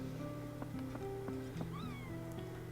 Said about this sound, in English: It's so cute that you can talk to the cats in this and they meow at you